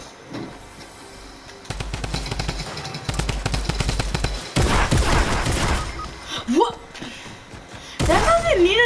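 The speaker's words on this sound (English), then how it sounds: "Do you see when I shoot pop pop, and he does pop pop pop." Pump shotgun blasts from the new pump in Fortnite, several sharp booming shots in quick bursts of two and three, loud and close, with gameplay noise and a voice talking between them.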